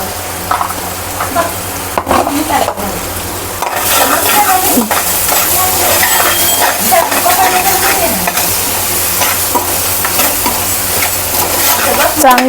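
Green chili and turmeric chutney frying in a pan, a steady sizzle with a spoon scraping and clinking against the pan as it is stirred, close and fairly loud throughout.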